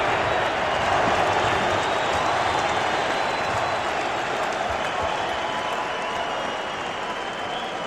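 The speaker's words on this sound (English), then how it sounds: "we're seeing the results as the crowd chants Holyfield" A boxing arena crowd roars and chants Holyfield's name at the Tyson–Holyfield fight, a dense, sustained wall of voices and clapping, loud and steady throughout with no pauses.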